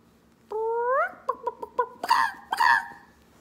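A voice imitates a chicken, a rising squawk followed by a run of short clucks and two louder bursts, close and alone.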